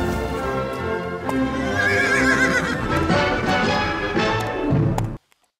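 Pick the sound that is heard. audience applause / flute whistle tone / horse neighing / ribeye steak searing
horse neighing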